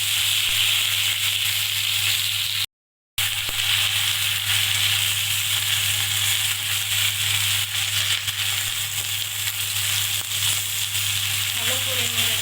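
Chopped pumpkin greens frying with green chillies in a pan, a steady loud close hiss and sizzle that runs almost unbroken, with a brief cut of silence partway through.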